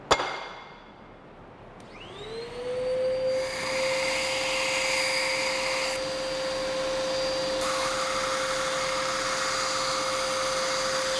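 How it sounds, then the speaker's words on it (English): An axe head is sharpened on a slack belt grinder attachment. After a brief quiet moment, the motor spins up into a steady, loud, close whine with a rushing abrasive hiss that shifts slightly as the blade meets the belt. "I go back to the axe head to sharpen it up on a slack belt attachment."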